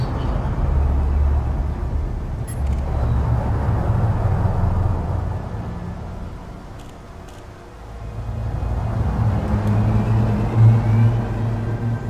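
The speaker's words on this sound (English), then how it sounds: "Ship released. Engines engaged." Spaceship engines in Elite: Dangerous hold a steady, loud low rumble with a broad hiss above, swelling and easing slightly as the ship pulls away after launch.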